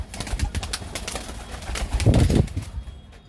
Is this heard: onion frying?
no